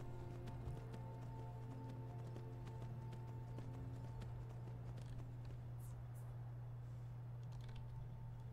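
Horse hooves pound in a steady clip-clop rhythm as a horse gallops across the ground in the video game Skyrim, carried under a constant low drone with sharp clicks on top.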